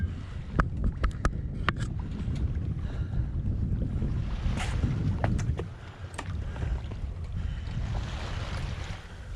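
A sailboat moves under both sails in about seven knots of wind, with close wind buffeting the microphone, water sloshing against the hull and a few sharp knocks and creaks.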